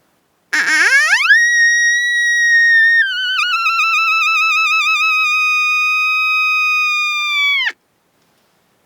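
A coyote howler call blown with the reed slid out for a higher pitch like a young or female coyote: a single long, loud, close tone that rises sharply, holds with a slight waver, then cuts off abruptly, alone.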